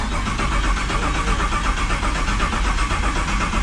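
A car freshly fitted with an LS engine swap cranks over on its first attempted fire-up, producing a loud, steady, rough churning drone that runs without pause and with no voices over it.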